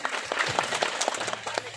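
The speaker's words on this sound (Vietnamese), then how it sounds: "quý vị hãy dành một tràng pháo tay thật lớn để chúc mừng cho đôi bạn trẻ" Wedding guests give the couple a burst of clapping, dense and close, with many hands striking in quick irregular rhythm across the short span.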